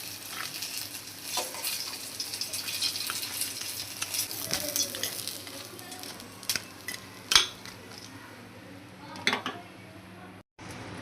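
Pumpkin fritters sizzle steadily in hot oil, then dried red chilli, bay leaf and nigella seeds hit the pan with sharper crackles, punctuated by close spatula scrapes and utensil clinks, with no speech.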